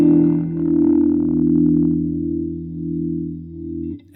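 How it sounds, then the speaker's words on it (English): A sustained guitar chord through a Kemper Profiler and EHX Lester G rotary-speaker pedal rings out with a slow, swirling wobble pulsing left and right, steady and fairly loud, fading slightly toward the end. "here is with the Lester G on in a slow rotation kind of sound"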